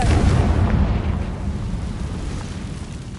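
The Confringo fire spell from Hogwarts Legacy bursts into a heavy, rumbling explosion that starts loud and booming, then slowly fades into a lingering low roar.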